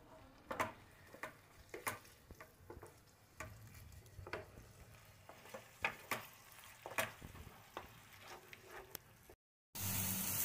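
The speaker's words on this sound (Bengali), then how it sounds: "যতক্ষণ না শুকিয়ে তেল ছাড়ছে ততক্ষণ আমি নাড়বো।" Mashed flat beans (seem bharta) fry in oil in a pan, sizzling softly while a spoon stirs and scrapes in regular, close strokes, before an abrupt cut to a louder burst.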